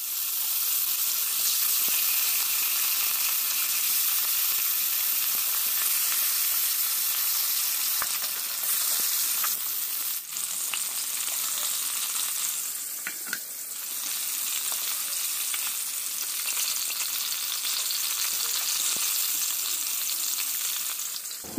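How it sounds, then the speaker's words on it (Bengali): Pieces of katla fish frying in hot oil in a wok, giving a loud, unbroken hiss and crackle of sizzling close by, with a few small spatters and shifts in intensity. "এখন মাছগুলো ভেজে নেব।"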